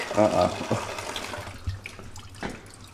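Gasoline drips and trickles from a drained Ford F-150 truck fuel tank, a faint liquid patter and splash heard close by, with voices talking over and around it.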